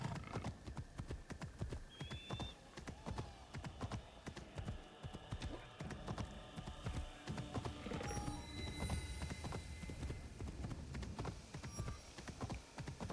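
Hooves clip-clop in a brisk, steady rhythm while a horse whinnies a few times, close and fairly loud, with scattered game effects around them, in Assassin's Creed Shadows.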